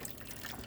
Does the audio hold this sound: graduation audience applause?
no